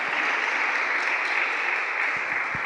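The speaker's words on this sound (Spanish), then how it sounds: "Dale fuerte el aplauso al Señor" A church congregation claps steadily and loudly, a dense sustained round of applause with a few sharper hand thumps near the end.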